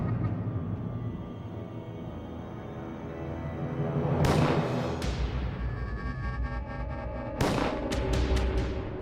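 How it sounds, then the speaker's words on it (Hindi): Gunfire in a comedy scene: a few sharp, loud shots cracking out, one around the middle and a quick burst of several near the end, over a low murmuring background. "प्रभु गोलियां चलने की आवाज"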